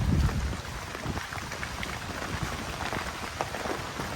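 Heavy rain pours steadily after falling since the previous afternoon, flooding ponds in the area; a dense, continuous hiss of drops fills the scene with no voices.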